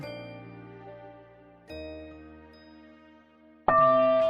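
Bright bell-like chimes of a school bell in a school building ring out in three separate strikes, each tone lingering and fading before the next, clear and fairly close.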